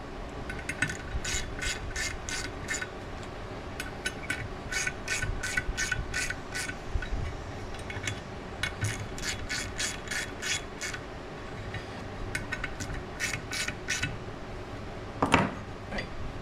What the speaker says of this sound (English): now I'm going to go ahead and finish compressing the helix spring